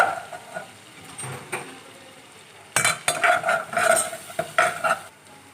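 Butter and flour stirred together in a pan for white sauce, a soft scraping rhythm with intermittent clinks of the spoon against the metal, quiet at first and growing busier and louder partway through.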